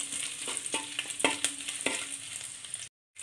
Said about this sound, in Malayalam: ഇഞ്ചിയുടെ പച്ചമണമൊക്കെ മാറുന്നത് വരെ വഴറ്റി കൊടുക്കുക